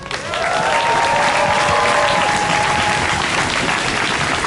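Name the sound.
audience applause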